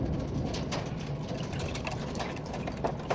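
Pigeons coo in soft, low, continuous murmurs close by, set against a steady background hiss with no one speaking.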